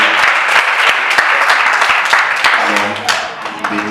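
A church congregation breaks into loud, close, sustained applause, dense and steady, easing off slightly toward the end as someone speaks faintly underneath.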